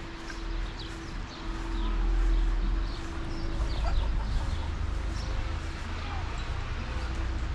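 Chickens cluck and murmur in a village yard, with scattered soft clucks over a low steady hum and some background voices.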